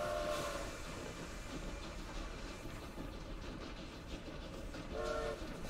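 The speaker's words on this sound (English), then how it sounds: "These engines are already being employed across new Cape Colony's railway lines." Steam locomotive train in the strategy game Victoria 3, with a steady rumbling rail roll and a short whistle or horn tone near the start and again near the end, heard alone at moderate level.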